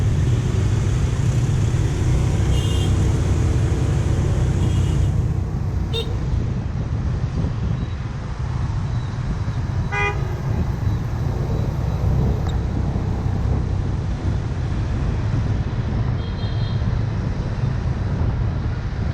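Motorbikes and cars stream along a busy road in Hanoi, Vietnam, a steady close traffic rumble broken by a few short horn toots.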